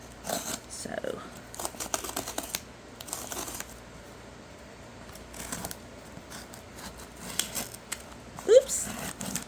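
Scattered crisp snips and rustling of dull scissors cutting open a package, in short bursts with pauses, quiet handling noises between them.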